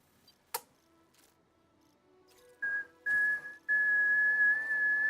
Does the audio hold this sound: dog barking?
no